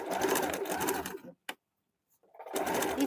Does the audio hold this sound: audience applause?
no